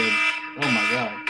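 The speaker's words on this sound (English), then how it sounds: "Sorry, that was my alarm to tell me to take my trash out" A phone alarm goes off during a podcast recording, a bright sustained electronic tone that stops and then starts again, with a voice exclaiming over it.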